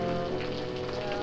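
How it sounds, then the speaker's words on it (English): Steady rain falling on a cotton farm in the American South, a continuous soft hiss of drops on surfaces with a low hum beneath, no voices. "Sure is a bad time for rain to come."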